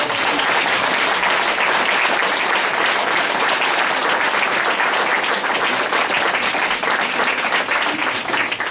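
A show audience applauds loudly and steadily, a dense wash of many hands clapping close by that holds its level without pause from start to finish.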